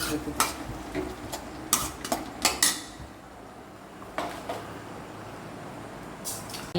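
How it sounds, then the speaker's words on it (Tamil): Metal utensils clink and scrape against a pan in short bursts over a soft, steady sizzle of spices frying for rasam. "ரசத்துக்கு தாளிக்கிறேன்"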